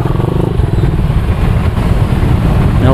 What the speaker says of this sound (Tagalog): may nakikita tayong mga motor na dumadaan